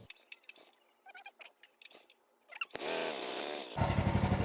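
Someone handles a Banjo petrol motor pump with light clicks and knocks, then the engine fires up and runs dry. It settles into a loud, steady buzzing drone that grows heavier and rougher toward the end.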